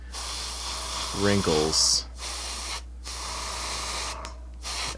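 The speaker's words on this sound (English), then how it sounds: "Aim for those divots and let the overspray create the fade over to these other areas" Short bursts of an airbrush or spray can hissing while shading a miniature's cape, followed by a steady background hiss; a person talks briefly over part of it.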